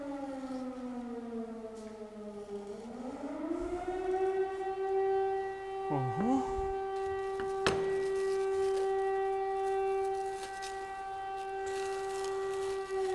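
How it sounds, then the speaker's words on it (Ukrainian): A wailing air raid siren in Zaporizhzhia rises slowly in pitch, then holds a steady, loud tone for a long stretch, with a brief lower sweep partway through. "Тривога в е, сирени в Запоріжжі."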